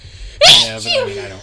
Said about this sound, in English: Bless you. Bless you.